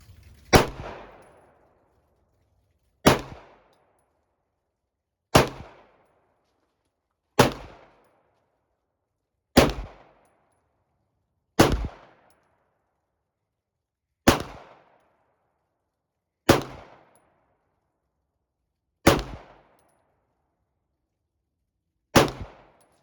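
Ten 9mm pistol shots of CCI Blazer Brass 124 grain FMJ ammunition, fired from a supported rest, crack out loud and close, evenly spaced about two seconds apart, each with a brief decaying echo and silence between.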